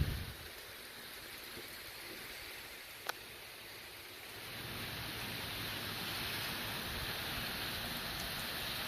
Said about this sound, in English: You can hear the intensity of the rain.